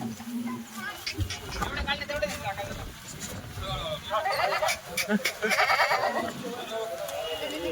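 Goats bleat several times among a noisy crowd at a goat market, their wavering cries rising over constant chatter from nearby people.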